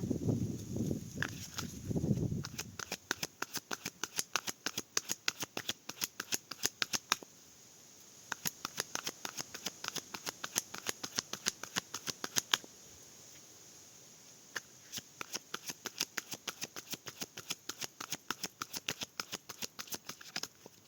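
A tarot deck is cut and shuffled, giving a long run of crisp, rapid card flicks and riffs close by, with a brief low handling rumble at the start.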